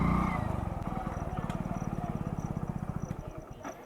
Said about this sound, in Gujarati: અહીંયા બાઇક પાર્ક કરી દેવી છે.